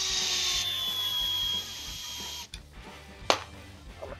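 A hex driver with a 2.0 bit drives screws into a Tekno EB48 2.1 RC buggy, a steady whirring whine for a second and a half, then quieter ratcheting turns and a short sharp scrape of the tool.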